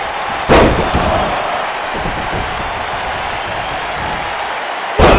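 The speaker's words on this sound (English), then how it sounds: "Wow, he just slammed him with ease." A WWE 2K19 wrestling slam hits with a loud thud over continuous arena crowd noise, and a second heavy impact follows near the end.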